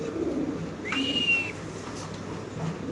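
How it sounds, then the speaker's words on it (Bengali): Black Lahori pigeons kept for sale make low, murmuring coos close by, with a brief thin whistling note rising over them midway. No one speaks. "অরিজিনাল লাহোরি কবুতর আপনাদের দেখাচ্ছি"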